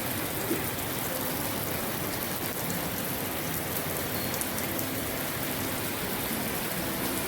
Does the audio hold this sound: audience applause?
no